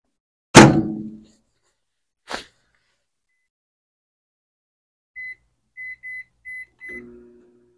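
An empty Emerson microwave oven finishes with a thunk and a click, then sits silent before a series of short, close electronic beeps followed by a low hum as it starts up again.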